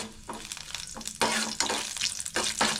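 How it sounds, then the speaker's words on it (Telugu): Tempering seeds spattering in hot oil in a pan, bursts of crackly sizzle rising and falling in quick waves with a few louder surges, close up and without talk. "ఆయిల్ హీట్ ఎక్కగానే ఒక తాలింపు గింజలు వేసుకోండి"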